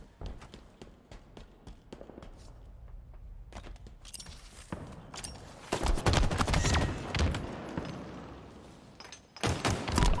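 Gunfire in the shooter Halo Infinite: scattered sharp shots early, then heavier loud bursts of rapid automatic fire with thuds and footsteps, pausing briefly before another close burst at the end.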